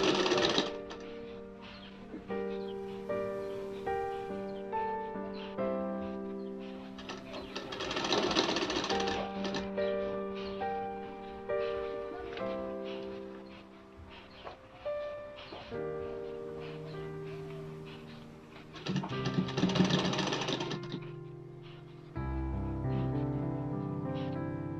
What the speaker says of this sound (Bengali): সেলাই ঢেকে ঢেকে সেলাই দেবো।